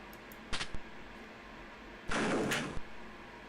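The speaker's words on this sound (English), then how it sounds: "Oh, I opened the secret door." A hidden door opening in the dungeon-crawler game Wizardry VII: Crusaders of the Dark Savant, two short clicks followed by a longer grinding slide that ends in a thud, fairly loud, with no talking.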